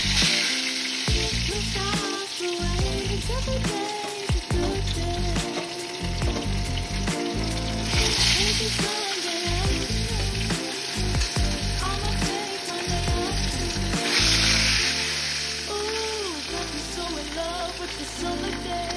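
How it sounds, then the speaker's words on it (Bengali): Fish pieces frying in hot oil in a wok, a loud, steady close-up sizzle and crackle lasting throughout, with occasional clatter and stirring, no voices. "আর আমি কড়াই তেল দিয়ে দিয়েছি, এবারে আমি মাছগুলোকে ছেড়ে দেবো"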